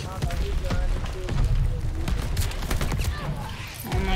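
A grenade explodes amid rapid gunfire in the video game Call of Duty Vanguard, with dense crackling shots and a few heavy booms, and a voice shouting briefly over the fight.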